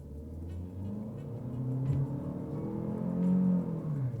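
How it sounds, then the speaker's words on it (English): A 2024 Chevrolet Malibu RS with a 1.5-liter turbo engine accelerates hard from a standstill, its low engine drone rising steadily in pitch as speed builds, heard from inside the cabin without talk. "That initial start when I put the pedal to the floor, it just rolled."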